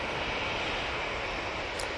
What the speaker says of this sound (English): there goes that Jet 2 down 2-3 left